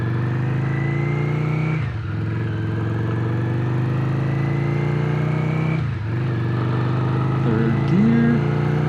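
A Yamaha Virago 535, a light five-speed motorcycle, drones steadily while being ridden, its engine note rising through each gear with two brief dips at the shifts and constant wind rush.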